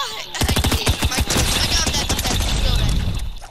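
Rapid SMG fire in Fortnite rattles out as a loud, close burst of densely spaced shots that blur into a continuous volley for about three seconds.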